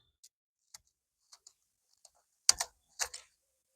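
Freshly picked spinach leaves from a terrace garden crackle and snap in a handful of sharp, crisp bursts, a few light ticks followed by two louder, close crunches near the end, with no talking.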